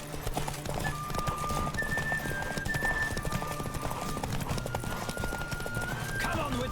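Rapid hoofbeats clatter in a continuous galloping rhythm during a horse race in The Witcher 3, close and loud, with faint musical tones running underneath.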